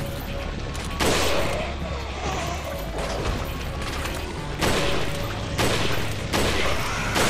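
Gunfire from Resident Evil 4 Mercenaries mode on the Dock level, playing as Wesker: loud broadband blasts recur in bursts over a steady game background, with several strong shots spaced a second or so apart.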